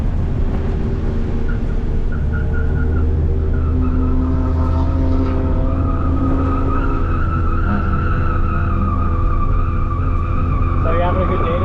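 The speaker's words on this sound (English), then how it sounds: "Getting the tires nice and warm." A race car warms its tires on track at Thompson Speedway, its engine droning loudly and continuously while the tires squeal and skid with shifting pitch throughout.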